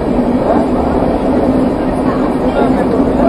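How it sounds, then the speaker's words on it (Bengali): A metro train passes near Noapara in a constant, loud rumble of rail noise, heard from aboard a Sealdah to New Jalpaiguri train. "এখানে নোয়াপাড়া মেট্রো যাচ্ছে,"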